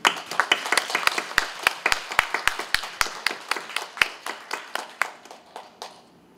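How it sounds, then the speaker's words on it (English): A church congregation at an English worship service applauds the worship team, a thinner group of distinct hand claps in a loose, fairly even rhythm that quickly thins out and fades to silence. "Shall we bless them with a round of applause?"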